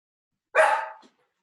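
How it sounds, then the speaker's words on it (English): A single sharp dog bark close by, loud and abrupt against silence, with a brief fading tail after it. "sorry about the dog interruption"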